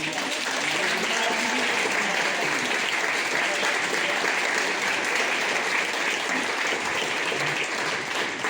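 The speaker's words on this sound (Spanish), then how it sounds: "un aplauso para ella" Sustained applause from an audience, dense and even clapping that holds at a steady level for the whole stretch.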